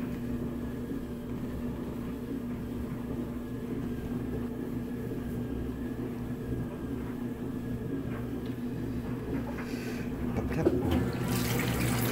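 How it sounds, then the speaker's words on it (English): Water pours steadily into a GE GTW680BS6JWS top-load washing machine running a jeans cycle, a continuous even rush with a low hum and a brief clatter near the end. "I'm going to add some extra water. Just a little bit."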